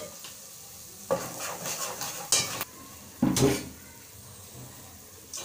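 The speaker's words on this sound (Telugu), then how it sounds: "పేస్ట్ పచ్చివాసన పోయే వరకు మనం ఫ్రై చేసుకోవాలి" Thick paste frying and being stirred in a pan with turmeric, a steady sizzle broken by several scraping, clinking stirs of a utensil against metal, close and fairly loud.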